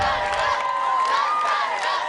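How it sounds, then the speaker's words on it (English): A big crowd of IndyCar fans cheers and shouts continuously at a Ninja Warrior qualifier in San Antonio, a steady, loud roar with whoops rising over it throughout. "A big group of IndyCar fans here to cheer Connor on."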